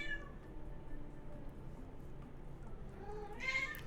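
A cat meows loudly and repeatedly at close range in a home while a game streams, the calls blending with steady background hum and a brief higher chirp near the end.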